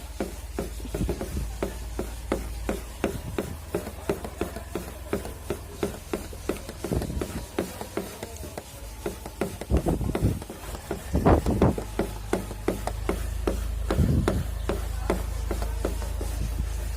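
A wet cloth with toothpaste rubbed on a scratch on a car's paint: faint, steady repetitive scrubbing strokes in a quick rhythm, close and quiet, with a few thumps.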